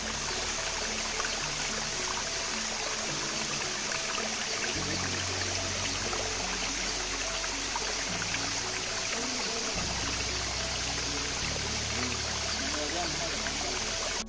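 Kona Malleswara Kona waterfall gives a steady, dense rushing roar of falling water that fills the whole stretch without pause.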